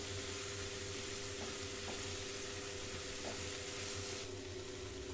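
Ridge gourd chutney ingredients sauté in a pan, giving a faint, steady sizzle with a few soft stirring knocks, low in level, with no talking.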